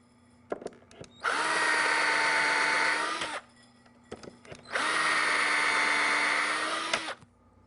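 Two bursts of a power drill driving a Vix bit into wood for cabinet butt hinges, each a steady high whine of about two seconds, with small clicks and handling taps before and between them.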